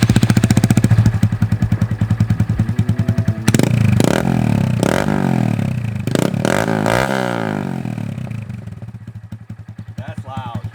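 A Honda Grom motorcycle runs with the exhaust baffle removed, loud and close: a deep, choppy idle, then repeated throttle blips that rise and fall before settling back to a lumpy idle.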